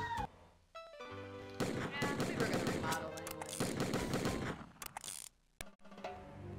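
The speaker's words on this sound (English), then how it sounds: "the gunfight at the bar is pretty entertaining" A video game gunfight breaks out inside a bar in a Western setting, with rapid bursts of gunfire and thuds packed densely for several seconds. The shots rise and fall over background sound, then cut off abruptly before a quieter tail.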